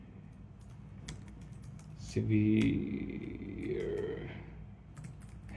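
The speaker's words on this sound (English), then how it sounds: "So if we go and type up our symptoms" Someone types on a computer keyboard with quick, light key clicks in short bursts, mixed with a person speaking and a brief low grunting sound.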